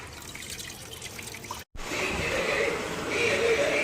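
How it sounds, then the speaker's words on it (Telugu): Laundry is washed by hand in water, with steady splashing and dripping near the microphone and a brief gap partway through, but no talk over it. "అంతా నీట్గా కడుక్కోవాలి."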